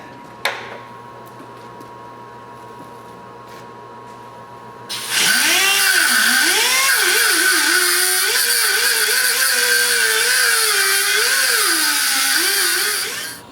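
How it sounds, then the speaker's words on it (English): An angle grinder grinds out rivets on a truck spindle, a loud, close, high-pitched whine that starts abruptly and holds for about eight seconds with wavering pitch under load, after a faint mechanical hum. "I'll have to grind this out because these are riveted in"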